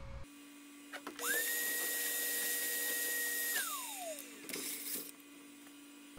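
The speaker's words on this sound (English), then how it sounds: "The first one is a simple sprocket cut out of 1/16 aluminum sheet." Cheap CNC mill cutting a sprocket from 1/16 aluminum sheet, a steady high spindle whine that ramps up, holds for a couple of seconds, then drops away, with clicks and a second short burst near the end.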